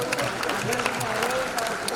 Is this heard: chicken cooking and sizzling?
no